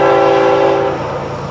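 A loud Florida East Coast Railway train horn blares at close range over the rumble of a passing train, then fades as the rolling noise continues.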